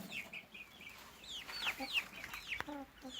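Several young chickens clucking and peeping close by in a coop, a busy cluster of short overlapping calls, fairly soft with no talking.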